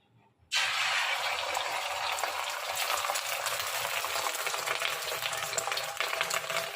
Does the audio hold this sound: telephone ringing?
no